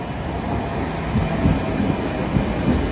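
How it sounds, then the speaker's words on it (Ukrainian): A Czech tram passes along a city street, a continuous low rolling rumble and rattle that swells slightly as it goes by at moderate distance. "Там вот опять едет чешский трамвай."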